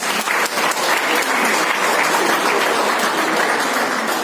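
An audience at a BJP environment-day celebration in Gurugram breaks into loud, sustained applause, steady and close for about four seconds.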